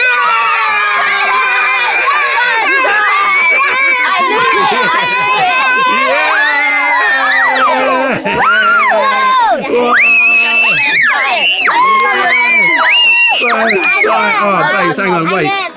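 A family cheers loudly during a backyard football challenge, children and adults shouting and screaming together in a sustained, close burst of excited noise with voices overlapping throughout.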